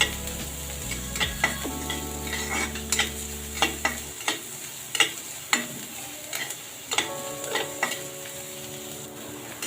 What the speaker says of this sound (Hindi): इसके बाद मैं इसमें प्याज ऐड करूंगी। मैं इसको पकाऊंगी